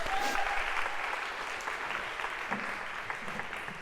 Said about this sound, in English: I feel Carter's waiting for applause.